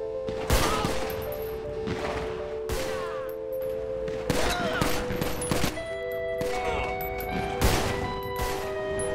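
Gunfire in the GTA video game rings out as repeated bursts of loud shots and rapid volleys, with crashes and ringing tones from the game in between.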